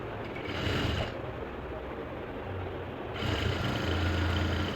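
A sewing machine runs in steady bursts while stitching a neck strip onto a blouse, a continuous mechanical whir that rises, dips briefly and picks up again, close and fairly loud.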